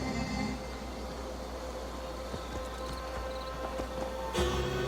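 Horse hooves clip-clopping in Assassin's Creed Valhalla, a faint irregular series of hoof taps over a quiet ambient bed, with a louder thump near the end and no talk.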